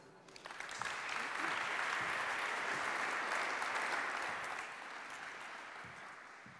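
At a parliamentary evening of the Leibniz-Gemeinschaft, an audience applauds its president as he is welcomed, a dense wash of clapping that swells, holds steady for several seconds and then thins out.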